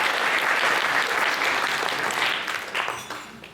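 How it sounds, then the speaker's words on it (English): Wedding guests applaud during a speech, a full, close round of clapping that holds strong before thinning into scattered claps and fading at the end. "Big round of applause for those guys."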